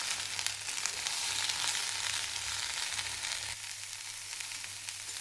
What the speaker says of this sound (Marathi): तेलामध्ये थोडीशी भाजून घ्यायची, 2 मिनिट